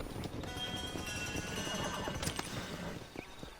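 A horse in Red Dead Redemption 2 neighs and whinnies amid the clatter of hooves on the ground, game sounds layered with background ambience and faint voices, lasting a few seconds at moderate loudness.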